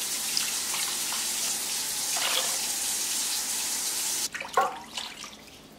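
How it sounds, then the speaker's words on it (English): Tap water poured from cans into a slow cooker over chicken and chicken broth, a steady splashing pour that stops abruptly near the end, followed by a few close clattering knocks. "and then just a couple of cans of water"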